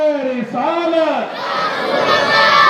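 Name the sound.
crowd shouting a response to a religious slogan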